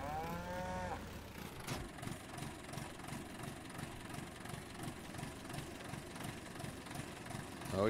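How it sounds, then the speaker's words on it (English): Cattle mooing repeatedly in Farming Simulator 19 over a steady low mechanical hum, with game-like ambience; the lowing is moderately loud and continues through the whole stretch. "Cows are doing quite nicely,"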